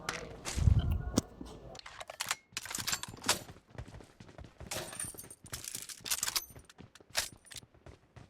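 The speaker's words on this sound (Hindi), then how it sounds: "एंड देन मेरे को बंदूकों की आवाज़ आ रही थी" Rapid bursts of gunfire ring out in a battle royale shooter, with sharp repeated shots and a heavy low thump near the start, the firing recurring in clusters across the scene.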